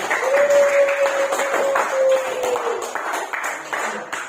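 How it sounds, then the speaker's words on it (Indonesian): Students in a classroom clap together, a steady patter of many hands under a sustained tone, fading slightly toward the end. "beri tepuk tangan semua"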